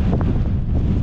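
A headwind buffets a cyclist's microphone, producing a loud, low, rumbling roar that fluctuates unevenly through the whole short moment.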